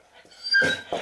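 A pet dog lets out short, high yips close by after being told to speak, a brief whimpering sound followed by two sharp bursts.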